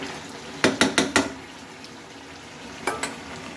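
Mutton being stir-fried (kosha) in a kadai for a slow-cooked mutton curry, with a steady low sizzle under repeated sharp metal spatula scrapes and clanks, a quick run of four and then two more, close and loud.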